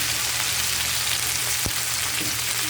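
Okra frying in a pan with anchovies and chilies, a loud, steady close-up sizzle with a single sharp tap from a utensil midway.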